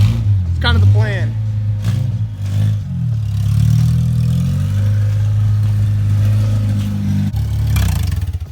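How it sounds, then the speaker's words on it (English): A Honda CR-V engine runs at a steady low idle hum close by, while someone talks over it for most of the stretch. "So here's the CRV's last time ever running."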